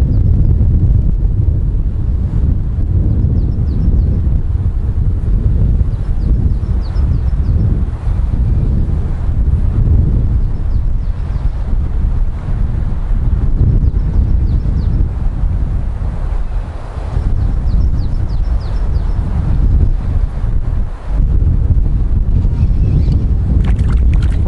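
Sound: wind

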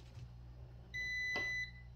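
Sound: multimeter continuity test beep

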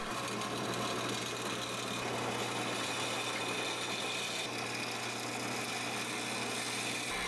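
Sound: lathe turning fruit tree wood

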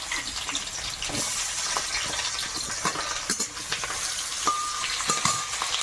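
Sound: chopped onion frying and being stirred in hot oil

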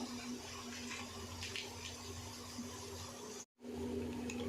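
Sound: draining water from partly cooked rice

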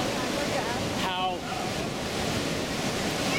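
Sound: Niagara River rapids rushing water

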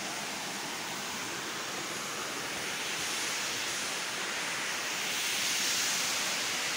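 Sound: waterfall

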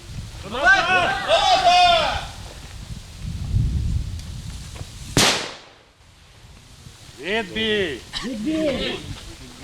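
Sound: training grenade explosion

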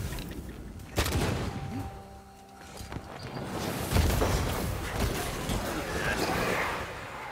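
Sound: possessed corpse shooting in the video game Banishers: Ghosts of New Eden

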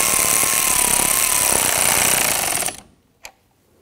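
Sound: tool tightening the nut on a car battery ground terminal

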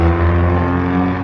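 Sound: loud car exhaust as a vehicle drives by

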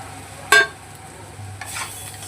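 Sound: stirring spices into cooking potatoes and aubergine

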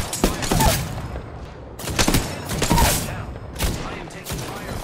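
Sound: gunfire in a video game

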